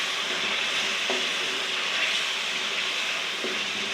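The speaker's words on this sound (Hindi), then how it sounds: "चनों को थोड़ी देर मसाले में भून लेती हूँ।" Boiled white chickpeas frying in spice masala in a pan, a steady close sizzle with no talking.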